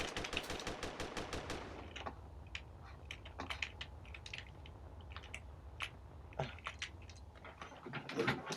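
Rapid bursts of gunfire in the video game Space Engineers, dense at first and then scattered as sharp cracks and pops at a fairly low level.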